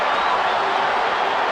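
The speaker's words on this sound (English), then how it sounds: "Oh, a little bit of excitement for the crowd again." Football stadium crowd at Real Madrid versus Manchester United, a dense, steady roar of thousands of voices swelling with excitement, continuous and loud throughout.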